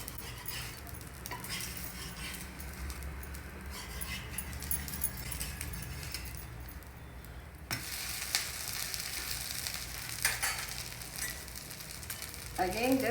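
A brown rice dosa sizzling steadily on a hot pan after being flipped, a continuous crackling fry with occasional scrapes and clinks near the end.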